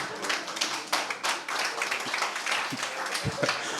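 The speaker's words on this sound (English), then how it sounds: "Give yourself a round of applause." A comedy show crowd claps, a mixed and uneven burst of hands with a few sharper individual claps and light taps standing out near the end.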